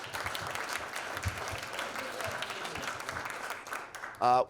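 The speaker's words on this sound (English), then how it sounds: "So can we give all of them a round of applause," A town hall crowd in Ward 7 gives a round of applause, a steady, moderately distant wash of many hands clapping that holds evenly, with a brief voice cutting in just at the end.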